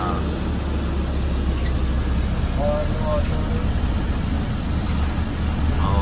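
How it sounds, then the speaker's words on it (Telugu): Cars and other traffic move along a rain-flooded road, giving a steady broadband rumble of engines and swishing water throughout, with faint voices in the background. "కార్లు చూడన్నా"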